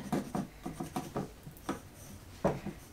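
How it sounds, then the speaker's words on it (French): A pencil sketching a new collar onto a paper sewing pattern for a blouse, giving soft, quiet scratchy strokes in short irregular bursts, close and alone. "je dessine un petit peu le nouveau col"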